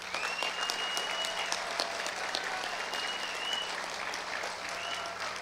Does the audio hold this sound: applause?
yes